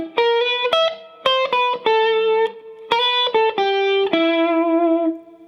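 An overdriven electric guitar plays the final line of The Munsters theme. Short plucked notes come in quick phrases with a few longer held tones, loud and up close, with no voices.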